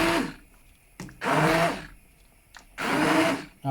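A blender blitzes Moroccan spiced vegetable soup in three loud whirring bursts, each lasting under a second and separated by short pauses, close up and alone.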